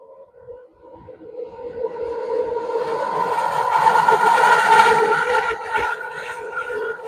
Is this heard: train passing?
yes